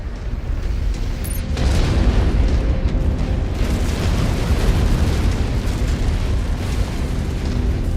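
A destroyed target mech explodes in MechWarrior 5 Mercenaries, a loud deep boom swelling into a long rumbling roar that lingers for several seconds and slowly fades.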